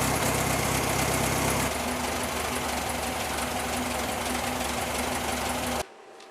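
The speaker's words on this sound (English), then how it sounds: "Considering this car sat for 14 years, it's running great." A 1969 VW Beetle engine, running again after sitting for 14 years, idles steadily with a busy, rattling mechanical clatter and a constant loud drone that cuts off abruptly near the end.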